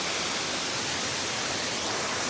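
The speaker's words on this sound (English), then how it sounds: "I think this is just like the actual 7 waterfalls" Seven Falls on a hiking trail, its waterfall a steady, loud, broadband rush that continues without break.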